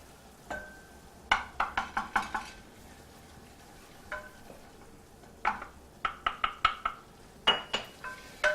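Flour being stirred into a velouté base in a pan, heard as quick bursts of metallic scraping and clinking, a spoon or whisk against the pan, with quiet gaps between them and no talking.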